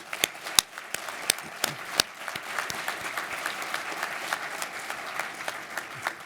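An audience at a steel-casting competition awards livestream applauds, opening with a few loud, sharp individual claps before settling into a steady, moderate wash of group clapping.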